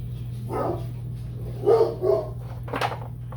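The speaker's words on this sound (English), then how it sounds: "hear my dog." A dog barks a few times in short bursts, moderately close, over a steady low hum in the background.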